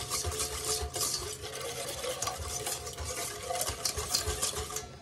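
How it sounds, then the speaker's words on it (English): A spoon or whisk stirs cold milk and lemon pudding mix in a bowl, giving a steady, close, continuous scraping and sloshing that runs throughout without pause. "Now, let's get this stirred up. 1/2 cup cold milk and 1 3-ounce box of lemon pudding mix."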